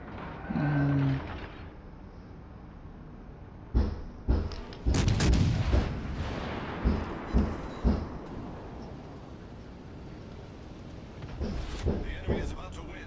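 Naval gunfire from battleships in World of Warships: Legends, including the Texas: loud booming salvos land in a cluster of heavy, closely spaced blasts, then another burst follows after a lull, with some talk nearby.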